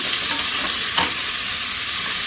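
Bitter gourd (karela) stir-fried in a pan, giving a steady close sizzle and hiss with one brief stir or scrape near the middle, no voices.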